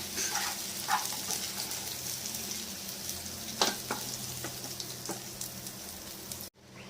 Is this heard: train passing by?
no